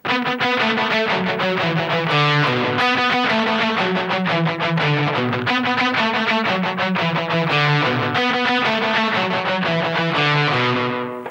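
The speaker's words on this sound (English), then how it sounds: "So we're going to play that same phrase that we just learned, but now with the delay pedal" Electric guitar through a delay pedal set to sixteenth-note repeats, playing a rock song phrase as a fast, cascading stream of echoing notes, loud and continuous with no talking.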